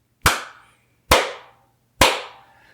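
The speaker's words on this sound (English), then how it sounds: "Yeah, do your clap test." Three sharp hand claps, evenly spaced about a second apart, each loud and close with a quick decaying room echo, and no talking around them.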